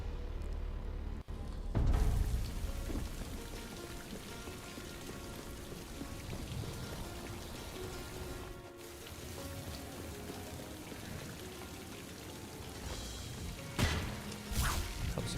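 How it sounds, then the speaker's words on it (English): Steady rain falls in a video game room, a continuous hiss of drops on surfaces with a few thuds and swishes, soft and even throughout with no talk. "You can tell by the rain, that's the room that I need."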